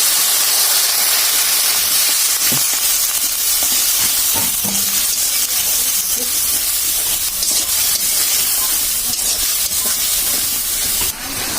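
Loud, steady sizzling and hissing of a cauliflower and potato vegetable curry with coriander, cumin and ginger paste in a hot pan just after water is poured in, with occasional stirring clinks and bubbling.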